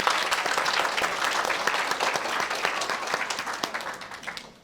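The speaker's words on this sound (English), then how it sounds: "Another applause for all of our wonderful speakers today." Audience at a middle school speech contest applauding its speakers: dense, steady clapping from a crowd across the whole stretch, easing off slightly at the end.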